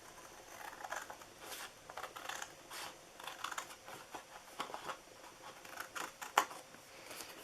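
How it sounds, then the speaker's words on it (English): Sharp snips from big scissors cut through material in an irregular series of crisp clicks, close and fairly quiet, with no voices. "I'm going to cut these two sections off right here."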